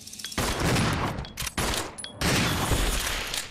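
Heavy shotgun blasts in the video game Resident Evil 0, three loud booming shots in quick succession, each followed by a dense rumbling echo.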